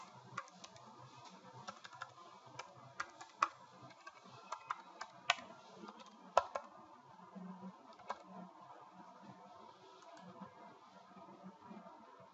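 Keys on a computer keyboard are tapped while a password is entered, giving faint, sparse clicks at an uneven pace with a few sharper keystrokes, set against quiet room noise and no speech.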